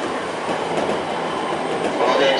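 A JR Ou Main Line train near Fukushima rolls along the rails with a continuous rushing rumble and faint clatter, heard steadily from inside the train.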